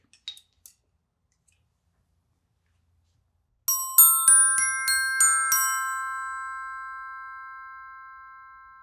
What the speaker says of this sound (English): here's an example of what a brass mallet's going to sound like.